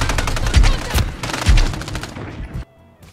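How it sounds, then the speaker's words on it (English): Dual akimbo shotguns fire in a video game, several loud booming blasts in quick succession that trail off into quiet. "I am here showing off these dual Akimbo shotguns"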